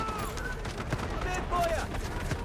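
Gunfire in the shooter game Delta Force, a few sharp shots and bursts under a steady game soundscape, with someone talking over it.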